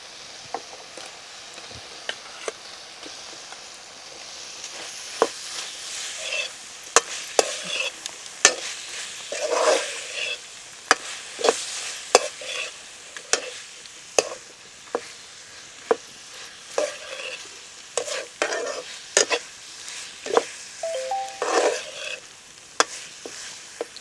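Cooked jackfruit stirred into biryani in a hot pan: a steady sizzle of frying under repeated scraping strokes of a spoon against the pan, close and fairly loud, with no talk.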